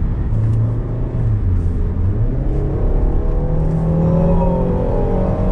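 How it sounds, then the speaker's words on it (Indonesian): A deep, steady engine and exhaust drone rumbles continuously, heard from inside a Peugeot 3008 small SUV as it accelerates, with a rising tone near the end. "suara dari knalpot tuh terasa masuk dalam kabin nih"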